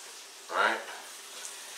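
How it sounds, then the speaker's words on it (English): Swiss cheese frying in a Copper Chef 10-inch frying pan over fairly high heat, heard as a single brief sizzling burst that swells and fades against a low background hiss. "I got the Swiss going on the pan"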